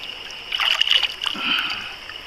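Close splashing and sloshing as an old dark green glass bottle is pulled out of creek water, a short burst of churning water over a steady background hiss.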